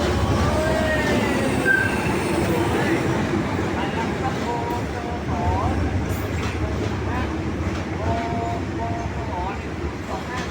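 Hitachi 4507 express locomotive train arriving at a Thai railway station, a steady loud rumble of rolling cars with intermittent squealing wheels and metallic clatter throughout, with voices talking in the background.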